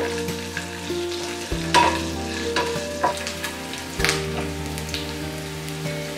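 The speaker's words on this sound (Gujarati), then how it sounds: "આ બધું જ ગરમ તેલમાં સારી રીતે સાતળી લેવાનું છે" Green chilies and curry leaves sauté in hot oil for a farali chivda, with a busy sizzle and crackle, scattered pops, and a couple of thumps from the pan.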